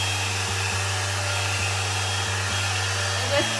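A handheld hair dryer blows a steady, loud, close whirring hum like a vacuum, with a few faint clicks over it and no talk.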